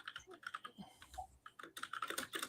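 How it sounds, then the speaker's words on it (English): Rapid clicking keystrokes on a computer keyboard patter faintly and steadily through a podcast recording, picking up into a denser burst toward the end. "you typing?"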